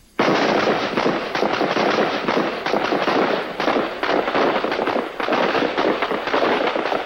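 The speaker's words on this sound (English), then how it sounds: "Ready on the firing line. In short bursts. Fire!" Rapid gunfire in short bursts on a firing line in a movie scene, loud dense crackling volleys continuing almost without pause, briefly dipping between bursts.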